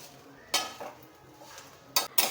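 A spoon scrapes and clinks against a pan as curry leaves are roasted and stirred, a few sharp metallic knocks over a soft background hiss, close by, with no voices.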